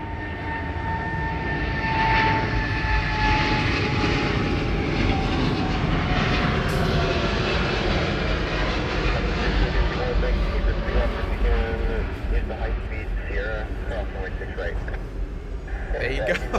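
Heavy jet airliner departing LAX, a loud, continuous engine roar with a rising and falling whine that holds steady throughout, heard from an airport plane-spotting location.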